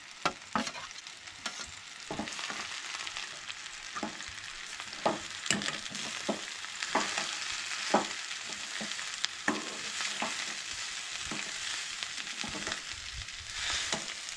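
Grated coconut roasts in a pan for Goan chicken curry, a soft continuous sizzle broken by frequent scraping and stirring clicks from a utensil against the pan.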